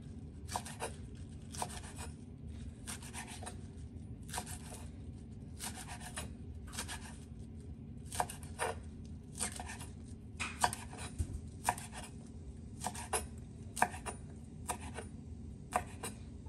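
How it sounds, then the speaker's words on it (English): A knife chops about a quarter cup of basil leaves on a board, making regular light knocks in short bursts over a low steady background hum, with no talking. "we are now going to chop about a 1/4 cup of basil"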